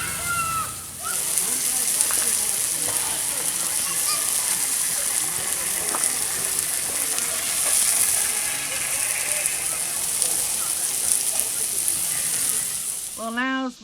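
Bacon-wrapped venison loin steaks sizzle on an outdoor grill at Wakonda State Park, a steady, fairly loud hiss and crackle that runs unbroken until a voice cuts in at the very end.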